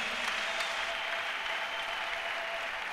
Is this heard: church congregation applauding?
yes